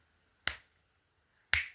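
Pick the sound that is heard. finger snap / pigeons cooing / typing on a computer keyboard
finger snap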